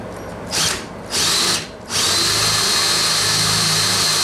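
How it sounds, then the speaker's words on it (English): A power drill boring holes in a model railroad layout runs in three bursts, two short and one long steady whine, close and loud with no talk. "I've got one more hole to drill"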